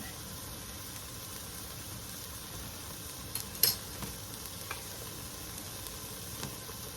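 Onions with ginger cooking down in a pot, producing a faint, even sizzle and hiss close by, broken by a brief stirring clatter midway.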